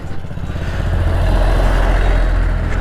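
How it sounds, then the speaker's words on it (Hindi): A TVS Orbiter scooter in eco mode revs up as it is ridden and accelerated on a foggy, cold day, its low engine hum rising steadily and holding close and loud with no talk. "सबसे पहले मैं आपको इसको राइड करके दिखाता हूँ, एक्सेलरेट करके दिखाता हूँ।"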